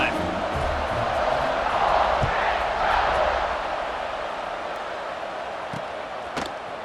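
Stadium crowd in the College Football 26 video game during an Egg Bowl matchup, a broad, steady roar that swells and then eases slightly, mixed under play-by-play commentary.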